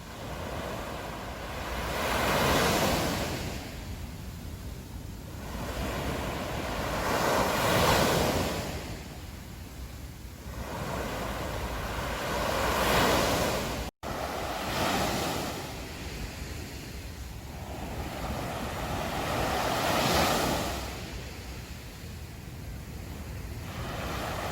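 Sea waves roll in rhythmic swells every five to six seconds, mixed with steady wind buffeting the microphone, continuous and fairly close with no voices over it.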